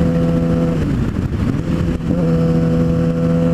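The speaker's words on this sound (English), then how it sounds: "All right, so 6th gear, here it is without rev matching." A motorcycle engine drones loud and close, with brief dips in tone as the rider downshifts from sixth gear without rev matching, the engine note changing at each shift.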